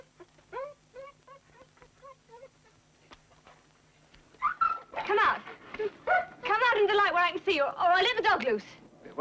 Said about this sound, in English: I've set the dog free.